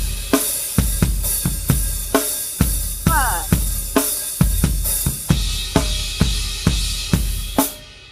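A loud, full drum kit groove: bass drums land with crash cymbals on a steady beat, a snare hits between them, and a brief fill comes midway.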